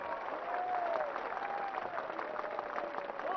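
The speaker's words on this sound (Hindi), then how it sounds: "मैं चाहता हूं कि आप खड़े होकर एक बार फिर ताली बजाएं" A crowd at a political rally in Kokrajhar, Bodoland, applauds steadily, a dense wash of clapping heard from a distance, moderately faint, with a voice faintly audible underneath.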